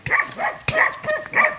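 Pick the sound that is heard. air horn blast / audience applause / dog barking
dog barking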